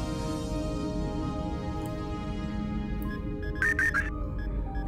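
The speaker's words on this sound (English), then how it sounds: "That noise was, I just had an email come up" A short computer email notification chime rings out near the end, alone over steady low background hum.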